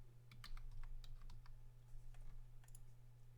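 Rapid, irregular clicks of typing on a computer keyboard, close and fairly quiet, with a steady low electrical hum underneath and no speech.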